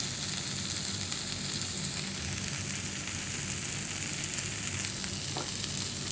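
A pan tempering for a Kerala-style banana flower thoran crackles in a continuous, soft, even sizzle, heard up close with no voices.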